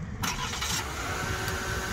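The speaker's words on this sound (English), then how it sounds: "And the vehicle does start up." A 2021 Buick Envision's engine starting up by remote start, a quick crank catching into a steady idle, close and clear with nobody talking.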